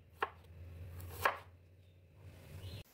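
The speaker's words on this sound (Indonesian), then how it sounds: "Satu ruah jahe diiris tipis." A knife cuts thinly through ginger on a cutting board: two sharp, isolated chops about a second apart, close and fairly quiet, over a low steady room hum.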